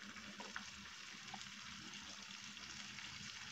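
Water poured into a pan of browned onions and spices while cooking chicken bhuna, giving a steady close hiss and sizzle with faint splashing throughout and no talk.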